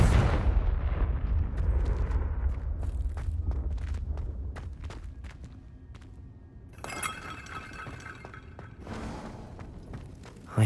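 A Confringo blasting spell explodes in Hogwarts Legacy: a loud booming blast with a rumbling tail, followed by shattering and clinking debris and bright crackling bursts.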